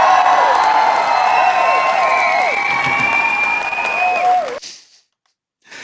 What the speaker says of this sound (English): So round of applause for the shorthand.